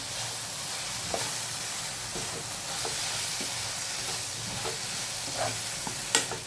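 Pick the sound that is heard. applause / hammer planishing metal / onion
onion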